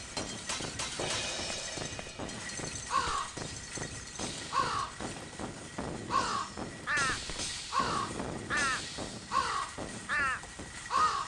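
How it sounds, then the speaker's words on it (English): Crows cawing overhead in the video game Thirty Flights of Loving, repeated harsh caws in paired bursts at a steady rhythm, moderately distant over a low rumbling backdrop, with no talking. "There were crows above us, circling, coming in for the kill."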